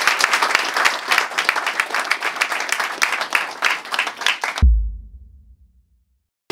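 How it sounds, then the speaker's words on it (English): Crowd of people at a beach football event clapping in a dense, fast burst of applause for several seconds, ending abruptly, followed by a low thump and fading rumble. "Clap it up."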